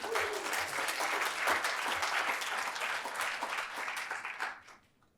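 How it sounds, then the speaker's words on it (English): An audience at a research center's ten-year anniversary celebration applauds, with dense, sustained clapping that fades out over the last second. "I think that deserves a round of applause."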